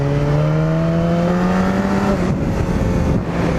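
A BMW S1000RR motorcycle engine in third gear drones loud and close with a steady, slightly rising whine, then eases off near the end.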